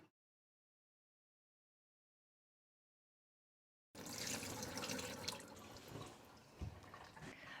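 Whey poured off a pot of cheddar curds, a splashing, trickling stream of liquid that starts abruptly after near silence and runs on, fairly close.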